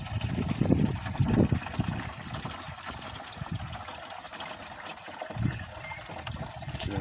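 Mountain water runs and trickles steadily from a roadside memorial fountain, a soft continuous flow heard close by with faint background noise.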